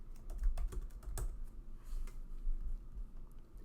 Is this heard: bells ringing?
no